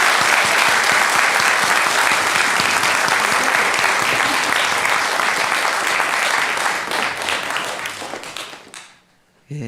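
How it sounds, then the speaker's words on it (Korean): A church congregation applauds during a Sunday afternoon service, with loud, dense, sustained clapping that fills the room for about nine seconds before tapering off abruptly. "주님께 영광 박수 드립시다."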